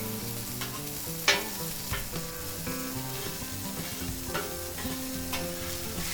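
Beef burger patties, about seven ounces each, sear in a hot pan with a steady crackling sizzle, broken by a few sharper pops and spatula clinks, close and moderately loud with no talk.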